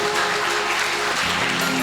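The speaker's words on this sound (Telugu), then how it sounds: "చప్పట్లు కొడుతూ యేసయ్యను మహిమపరచుదాం." A church congregation claps to glorify Jesus, a dense, even patter of many hands at moderate distance, steady throughout with no voices over it.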